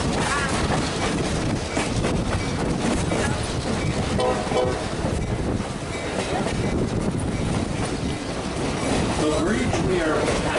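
A tourist train near Jim Thorpe runs with riders in an open-air car at the rear, a steady loud rumble of wheels and wind noise throughout, with faint voices and clatter mixed in.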